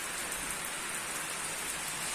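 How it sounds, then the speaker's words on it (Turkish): Steady rain falls in a dense, even hiss of drops on surfaces, moderately loud and unbroken, with no voices. "10 dakikada e, çok güzel bir yağmur yağdı"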